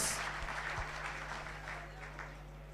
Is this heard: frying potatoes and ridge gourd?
no